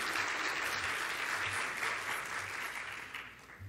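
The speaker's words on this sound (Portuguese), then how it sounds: "peço que o recebam também com uma salva de palmas." An audience at a Gartner business presentation applauds to welcome a speaker, a steady wash of clapping from a large crowd that holds level and eases slightly near the end.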